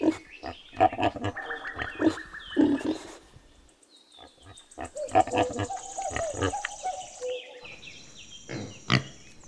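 A pig grunts and squeals in a series of loud, close, uneven bursts, with short pauses between calls and a few high chirping sounds in the background.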